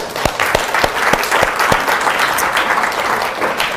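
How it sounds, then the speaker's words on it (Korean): Congregation applauding at a church leadership conference, dense steady clapping from a large crowd filling the room, with a few sharper claps standing out early on. "우리 박수 한번."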